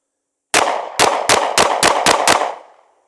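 Seven rapid pistol shots from a Sig P365X Macro Comp, loud and close, cracking out in a fast, even string and trailing into a short ringing tail of outdoor reverberation.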